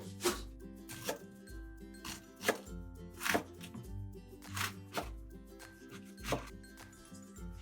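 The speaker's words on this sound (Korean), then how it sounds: "얼갈이 배추는 밑둥을 잘라주시고 6cm 정도 길이로 자르세요" A knife chops young napa cabbage into 6 cm lengths on a cutting board, giving a steady series of crisp, fairly quiet thuds about two per second, close up with no talking.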